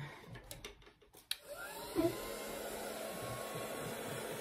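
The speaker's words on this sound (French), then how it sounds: "je vais prendre mon heat gun et je vais sécher légèrement tout ça" A heat gun blows warm air over a paper craft project, a steady blower whir running under a few knocks and rustles at the start.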